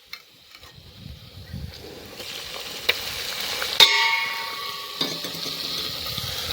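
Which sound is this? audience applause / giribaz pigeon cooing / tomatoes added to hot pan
tomatoes added to hot pan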